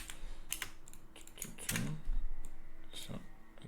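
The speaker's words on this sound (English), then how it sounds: "So I type this." Typing on a computer keyboard, a close series of irregular clicky keystrokes in short bursts.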